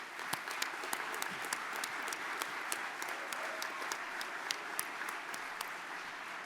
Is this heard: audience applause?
yes